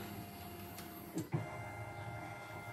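A CNY E900 portable computerized embroidery machine runs a steady mechanical hum while tracing the embroidery area, with a couple of brief clunks midway and no talking.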